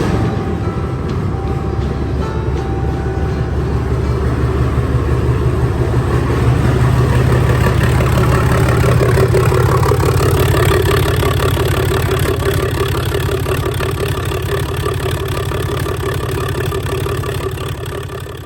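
A Cummins diesel truck engine idles steadily nearby, a loud low rumble with a constant clatter throughout.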